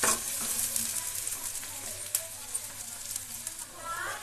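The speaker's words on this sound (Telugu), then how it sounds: "ఇది మనకు బ్రౌన్ కలర్ వచ్చేంత వరకు వేగనివ్వాలి ఈ ఉల్లిపాయలను." Sliced onions sizzle steadily in a pan of hot oil while being stirred, a dense close crackle with occasional scraping taps, cooked until brown for a liver fry.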